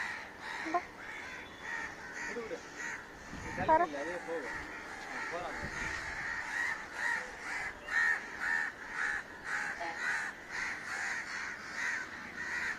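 A crow just pulled out of a drain caws repeatedly in short rhythmic calls, rather quiet, with people talking nearby.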